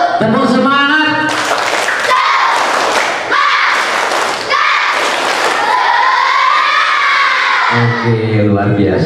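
Scouts perform a rhythmic spirit clap in a hall, loud bursts of group clapping in patterned beats alternating with chanted voices, ending with speech.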